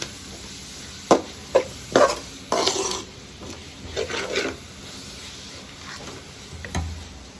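Onions being stirred and sautéed in a pan for a Kerala-style chicken roast, with a handful of close, scraping spatula strokes against the pan, some short and sharp, others longer and rasping, over a steady low hiss, with no talking.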